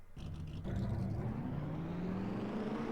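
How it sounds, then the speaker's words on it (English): Race car engines firing up in a 25-car field at Daytona, a rising whir and rumble that thickens into a sustained, steady drone of many motors idling together, with no voices. "Drivers, start your engines."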